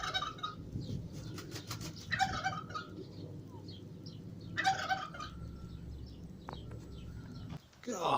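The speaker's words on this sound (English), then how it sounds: "look at the size of that turkey" A turkey in Malta gobbles in several loud, rattling bursts over steady outdoor background noise, with a final outburst near the end.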